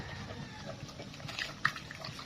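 Water runs steadily on a farm where a pig is kept, a faint continuous wash of flowing water with a small splash or knock partway through.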